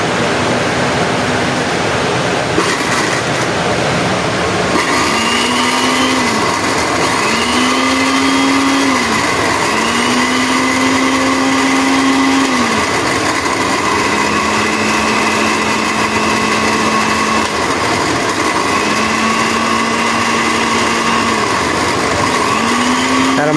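A household blender runs continuously and loudly, its motor droning with repeated rising and falling pitch changes as the speed is switched up and down, with no talk over it.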